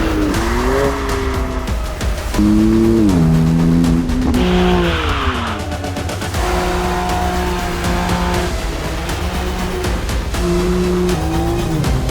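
A BMW M3 Competition Touring estate car drives hard, its engine note rising and falling through repeated revs and gear changes, loud and close, with no talking.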